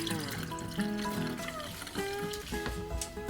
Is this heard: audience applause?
no